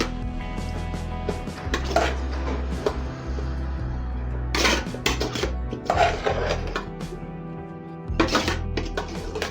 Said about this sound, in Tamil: நம்ம சமைச்சு வச்சு எக்கை போட்டு சாப்பாட்டெலாம் மிக்ஸ் பண்ண போகிறோம்